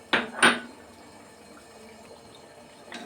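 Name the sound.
stirring nut and seed paste into a cooking pan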